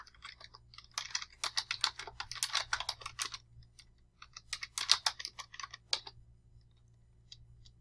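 Typing on a computer keyboard while entering text in all caps: two dense bursts of rapid key clicks with a short pause between them, close and clear over a low steady hum, with no talking.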